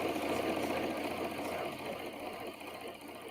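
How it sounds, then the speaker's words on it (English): A serger overlock sewing machine runs steadily with a fast, even mechanical whir and needle clatter, close up and fairly loud throughout, sitting directly on a table with no mat beneath it. "I guarantee you that this one is quieter than a lot of sergers"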